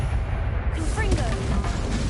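A Confringo fire-blast spell cast in Hogwarts Legacy on PS5 bursts out as a loud, dense blast with booming low rumble, spanning the whole short moment alongside game noise.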